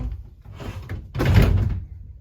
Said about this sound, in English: Close up this door.